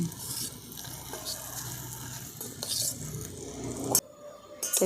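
Fried lachha sweets being turned over in sugar syrup with a utensil, soft scraping and clinking against the pan over a faint sizzle, close by, ending in a sharp metallic tap.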